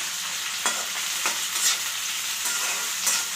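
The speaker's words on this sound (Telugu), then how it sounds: "వేసుకొని మంచిగా వేయించుకోవాలి" Onions fry with capsicum in a pan for street-style noodles, a dense, even hiss of sizzling oil punctuated by a few scraping stirs, close and steady, with no voices.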